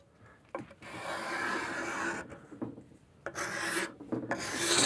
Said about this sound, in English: you can kind of card scrape and get a nice smooth finish